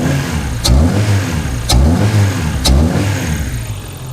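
A Honda Civic EK runs with a poor idle and is revved three times in even succession, each burst rising sharply and falling back, close and loud with no voices.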